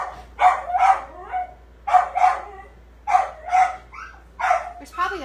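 A dog on a porch, worked up by a squirrel, barks in repeated bursts of two or three sharp, loud barks spaced about a second apart, ending in higher yips.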